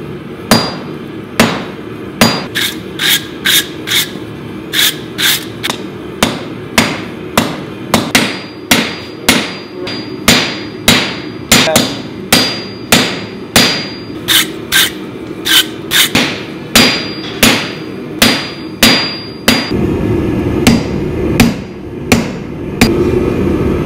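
A blacksmith hammers a bushcraft knife blade on an anvil: a long, steady run of sharp, ringing metal strikes, loud and close, with brief pauses and no speech.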